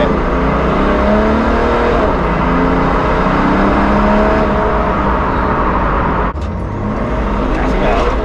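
A car accelerates hard from inside the cabin, engine note climbing and straining with a brief dip and stutter near the end as traction control cuts in, people talking over the steady loud roar.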